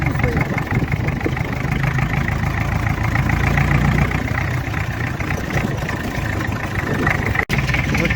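A homemade tractor engine runs close by at a steady idle, its continuous mid-to-low rumble holding unchanged for the whole stretch.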